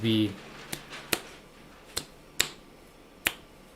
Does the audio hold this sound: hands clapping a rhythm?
yes